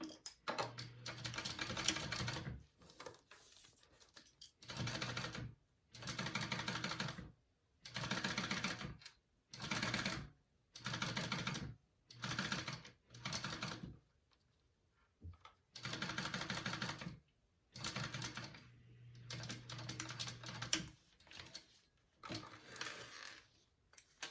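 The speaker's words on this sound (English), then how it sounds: "I'm going to go ahead and sew that at a 1/8 inch seam allowance first." A sewing machine stitches a 1/8 inch seam on a crossbody bag in repeated bursts of fast, steady whirring, each run lasting a second or two and separated by short quiet gaps, close and fairly quiet, with no talking.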